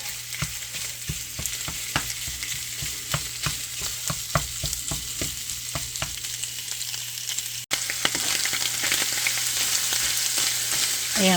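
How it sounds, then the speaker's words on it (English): Italian sausage links fry in a pot with a steady, close sizzle and crackle, broken by periodic scraping stirs, then a louder, brighter sizzle after a brief cut. "And this is frying up really good."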